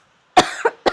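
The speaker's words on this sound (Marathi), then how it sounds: "नाही ते खोकला आला मला" A person lets out a short burst of coughs, two quick close coughs followed by a third after a brief pause, loud against silence.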